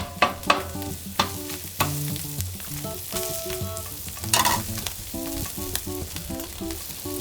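Onions and brisket sizzling on a griddle, a continuous crackling fry with rhythmic spatula scrapes and taps against the flat metal surface, close and steady throughout, no voices.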